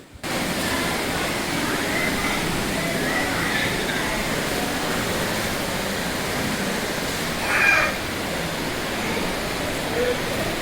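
Fast-flowing river water at Kuruva island in Wayanad rushes as a loud, unbroken broadband roar close by, with a short swell near the end; a voice is faintly present beneath the flow.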